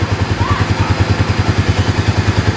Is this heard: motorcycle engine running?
yes